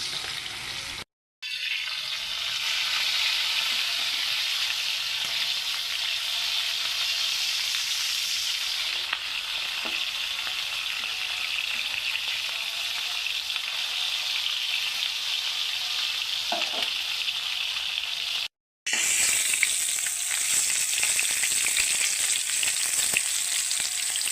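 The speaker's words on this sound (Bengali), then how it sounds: "টমেটোটা লাল লাল করে ভাজা হয়ে গেছে" Tomato pieces fry in hot oil in a pan, a steady loud sizzle that runs nearly the whole time, broken by two brief silent gaps, with faint stirring scrapes and no talk.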